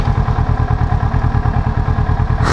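Motorcycle engine during a riding lesson in town: a loud close low-pitched engine throbbing in a fast even pulse, steady throughout with no talk.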